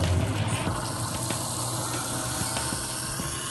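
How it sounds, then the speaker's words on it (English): Hot water runs steadily from a tap into a kitchen garbage disposer, a close, continuous gushing and splashing flow with faint clicks and no talking. "run a little hot water, and that will actually stop the freeze of the water"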